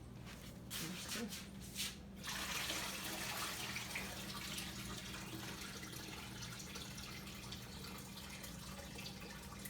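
Tap water runs steadily into a cooking pot in a home kitchen, a continuous soft splashing with a low hum underneath and a few brief breaks near the start.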